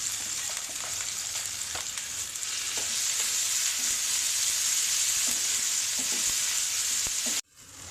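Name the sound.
onion and potatoes frying in oil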